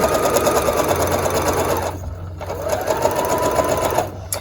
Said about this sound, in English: we're going to sew forward and back a couple of times to hold that elastic